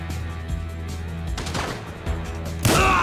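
Gunfire in a Grand Theft Auto 5 shootout, with sustained rattling shots over low game noise, ending in a louder, sharper burst of fire near the close.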